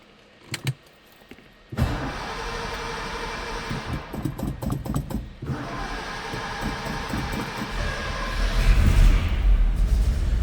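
A cold-blooded 1962 Ford Thunderbird hardtop's engine cranks and catches after key jingles, then settles into a steady, close idle that swells louder toward the end.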